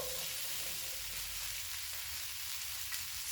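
Rice, ginger and vegetables stir-fried in a pan, a steady soft sizzle with light scraping of turning and stirring throughout, fairly quiet and close, with no talk.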